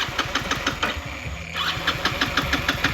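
A motorcycle engine sputters and labours in floodwater during monsoon rain, with a fast knocking idle that falters and then catches again. It is close and steady, with no voices.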